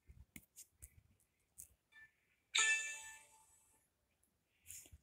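A Meta Quest 3 "bell twink" notification tone, a single bright tinkling bell strike with a sparkling attack and a ringing tail that fades over about a second, heard alone between soft clicks.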